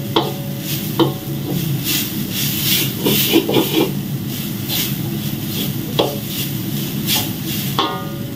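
Steady sizzling of food frying in a pan until golden, with occasional stirring clinks and scrapes over a continuous hiss; no talking.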